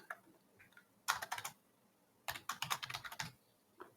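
Short bursts of typing on a computer keyboard as a password is entered, two quick clusters of close, crisp key clicks separated by a pause, with a stray click or two around them.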